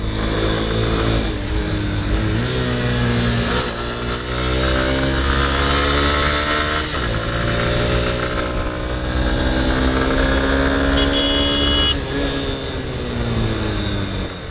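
A Honda Hornet 2.0 motorcycle engine hums steadily while riding, its pitch climbing and dropping through gear changes over sustained wind rush, loud and close throughout.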